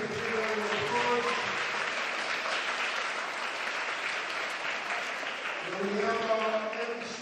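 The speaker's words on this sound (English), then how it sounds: "Let's give the Shawnee a big round of applause." Sustained, dense applause from a school talent show audience fills the room steadily for several seconds, with voices audible faintly at the beginning and end.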